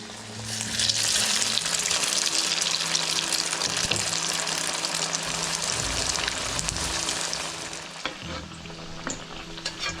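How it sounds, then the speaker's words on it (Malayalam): Flattened Kerala tea-time snack pieces, dipped in egg white, fry in hot oil with a loud, dense crackling sizzle that holds steady, then thins out near the end as stirring clinks through. "ഇനി ഇതേപോലെ പരത്തി വെച്ചത് നമുക്ക് മുട്ടയുടെ വെള്ളയിൽ മുക്കിയിട്ട് ചൂടായ എണ്ണയിലേക്ക് ഇട്ട് കൊടുക്കാം"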